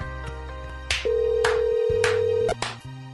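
A telephone call plays over a line, with a few short beeps followed by a long, steady ringback tone and then more brief tones before a voicemail greeting.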